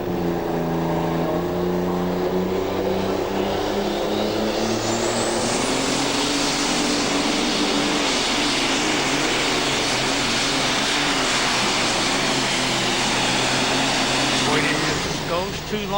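A super stock tractor pulls at the 2008 NTPA Championship in Bowling Green, Ohio, its engine roaring loud and sustained, rising in pitch as it revs, while an announcer talks over it.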